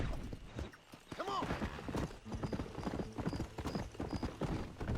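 A horse ridden in the video game Red Dead Redemption clip-clops in a quick steady rhythm, close and clear, with a brief whinny early on and someone talking over the hooves.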